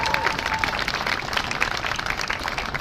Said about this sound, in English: Why don't everybody give themselves a round of applause again.